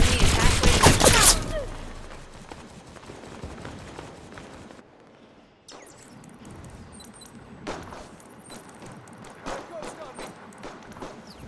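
Gunfire and combat noise in the video game Halo 5: Guardians, a loud burst of rapid shots up front, then softer scattered shots and clatter while game voices talk over it.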